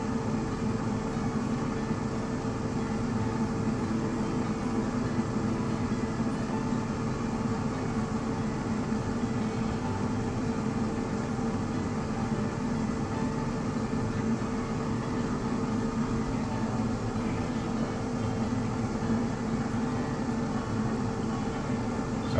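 Air fryer running at 400 degrees while cooking sweet potato fries, a steady unbroken fan whir and hum, close and constant with no talk over it.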